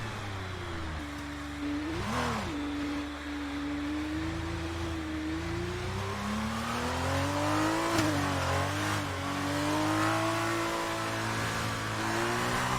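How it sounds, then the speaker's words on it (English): An F2 race car in the F1 2019 video game revs and drifts at the Hungarian GP, its engine note rising and falling in long wavering sweeps with a steady close-up drone and tyre noise beneath. "Doing a little bit of drifting for us."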